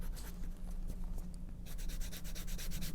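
Steady, close rubbing of an abrasive sanding the cut edge of a leather passport case to smooth it, with repeated strokes that grow brisker and more rhythmic in the second half; no talking.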